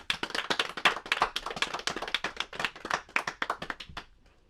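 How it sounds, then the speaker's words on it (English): A podcast audience claps for a guest as she is introduced: a dense run of close hand claps from a small group, loud and steady before fading out at the end. "Give a round of applause for Miss Alli J."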